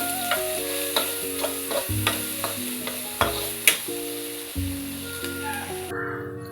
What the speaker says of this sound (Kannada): ಇದು ಈರುಳ್ಳಿ ಸ್ವಲ್ಪ ಫ್ರೈ ಆಗಬೇಕು